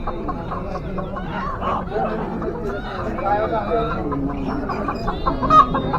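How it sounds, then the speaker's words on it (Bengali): Chickens cluck and chatter in a crowded pet market, mixed with steady murmur of nearby voices and market bustle. "এবার হাঁসের পর কিন্তু আরেক ঘরে মুরগি পালিয়ে যাচ্ছে।"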